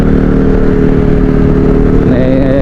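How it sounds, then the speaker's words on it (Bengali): A loud, rumbling motorcycle exhaust drones continuously up close, with a slight rise in pitch toward the end. "এই বিকট শব্দের এক্সস্টের মানে কি ভাই?"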